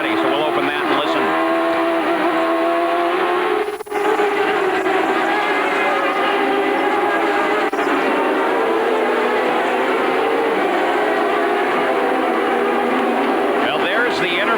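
Onboard audio from Michael Andretti's IndyCar at the 1996 Molson Indy Toronto, a loud sustained engine drone with brief dips at shifts and a rising rev near the end, commentators talking over it.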